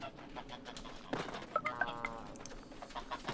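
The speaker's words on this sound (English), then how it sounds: "Let's catch the geese." Geese honk in the video game Knights & Bikes, a few short nasal calls bunched in the middle of the clip over steady game background sound, moderately close and not very loud.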